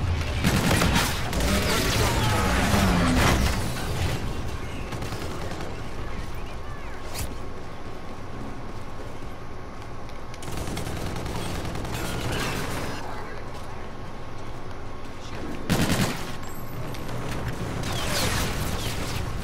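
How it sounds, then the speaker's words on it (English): Call of Duty: Infinite Warfare gunfire comes in loud volleys at the opening and again around the middle and near the end, separated by quieter stretches of mechanical clatter and sharp single cracks. "Shots fired!"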